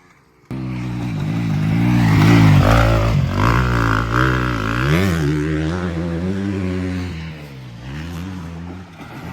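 A dirt bike engine revs hard and close by, its pitch rising and falling as the throttle is worked.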